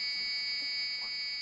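A quiz contestant's buzzer in a school quiz competition sounds as a steady, loud electronic tone that holds for the whole moment, with no talk over it.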